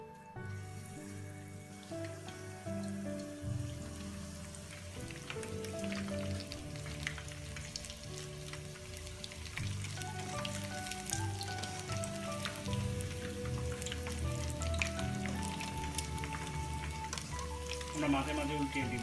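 Japanese tori ten chicken pieces fry in hot oil with a steady, dense crackling sizzle that holds evenly throughout, alongside faint background music.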